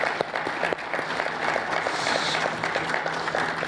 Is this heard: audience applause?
yes